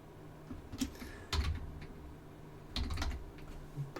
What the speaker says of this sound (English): I am going to type in